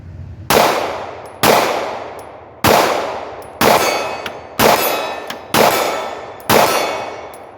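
Seven shots from a Glock 43 pistol each ring out on a steel target 30 yards downrange, a sharp bang followed by a long metallic clang that decays before the next, spaced about a second apart, with no talking.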